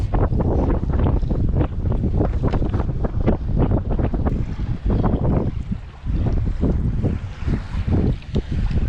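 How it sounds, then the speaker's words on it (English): Strong wind buffets the microphone at sea during kayak fishing off the UK, a loud continuous roar with gusting bursts and low rumble, likely mixed with water slapping, with no talking. "this wind is horrible"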